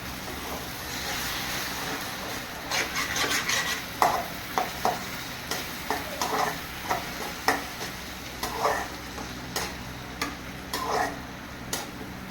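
Tomato paste being stirred into a pan of frying food for a raw banana kofta curry, with a steady soft sizzle under a series of rhythmic spoon scrapes and taps against the pan, close up and with no talking.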